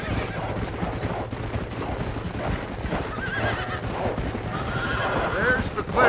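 Horse neighing and whinnying over clip-clopping hooves in the Red Dead Redemption video game, with repeated high whinnies in the later part over a steady hoof rhythm and game ambience.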